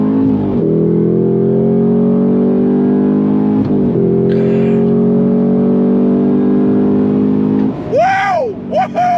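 A 2025 Cadillac CT5-V Blackwing Precision accelerates hard in first gear, its engine note climbing loud and close, with brief breaks where the gears shift and the pitch jumps again, and excited voices near the end.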